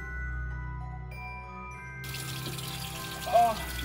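A tap runs cold water over soapy hands at the sink inside an Airstream travel trailer during winter camping, a soft steady stream under a background hum with a brief splash near the end.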